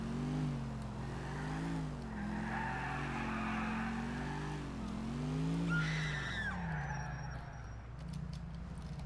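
A car in GTA 4 drives with a rumbling engine, then its tires squeal sharply in a skid that bends in pitch before fading, followed by lighter clicks.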